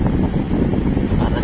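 Strong wind from an approaching typhoon in Dilasag, Aurora, Philippines, buffets the microphone in a constant low roar, loud and close, with no other sounds standing out.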